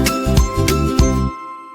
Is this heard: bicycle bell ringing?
yes